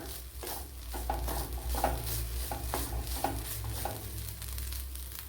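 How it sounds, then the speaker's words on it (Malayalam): Grated coconut frying in coconut oil in a pan, stirred with a utensil: a soft continuous sizzle with repeated scraping strokes in an even rhythm, close and fairly quiet, with no talking. "ഇവിടെ ഒരു പിടി തേങ്ങ ചേർത്ത് കൊടുത്തിട്ടുണ്ട്. ഇതിനെ ഒന്ന് ഫ്രൈ ചെയ്തെടുക്കണം."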